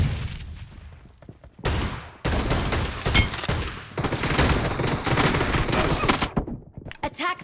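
Gunfire in the mobile video game BGMI, loud rapid bursts of shots that cut in and out in several volleys, with brief game announcer voice between them.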